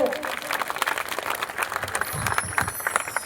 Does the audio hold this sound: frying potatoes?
no